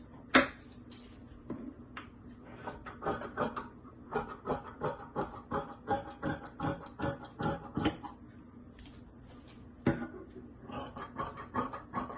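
Scissors snip through fabric while cutting out a pattern piece for a V-neck overlap top, a rapid series of close, crisp cuts with a few short pauses and rustling of the cloth.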